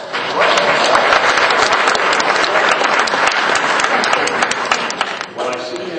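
An audience at a talk bursts into loud, sustained applause, dense clapping that fills the room for several seconds, then thins near the end while a voice begins to speak.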